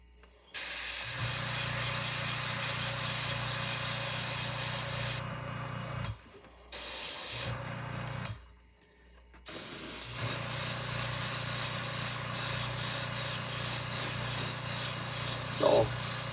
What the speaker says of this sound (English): Now you don't want to spray this stuff all in one coat.